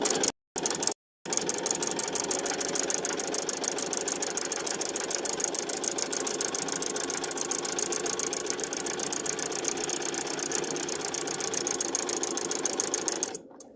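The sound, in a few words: sewing machine stitching fabric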